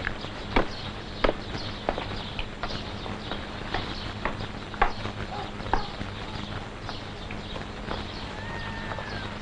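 A horse walks along at an unhurried pace, its hooves sounding clear, spaced clip-clops with faint surrounding ambience, while a voice speaks softly in the background.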